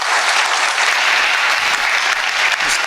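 Sustained audience applause fills the room after a speaker is introduced at a talk, dense steady clapping from a crowd, loud and continuous throughout with no break.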